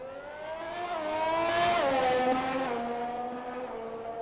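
A race car spins out at Bahrain during a race, its engine note rising and then falling sharply across a few seconds, with a brief squeal of tires near the peak. The sound is close and loud, and no one speaks.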